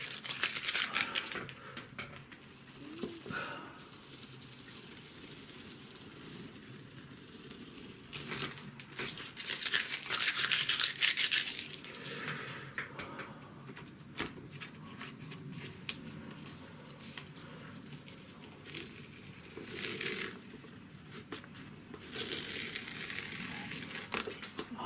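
Masking tape is peeled off the edges of an acrylic sunset painting in long crackling, tearing bursts separated by pauses, recorded close and fairly loud for about twenty-five seconds.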